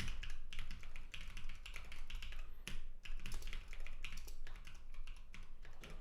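Rapid typing on a computer keyboard during a programming session, dense irregular clicks and taps that continue for about six seconds at moderate, close level, with one brief pause.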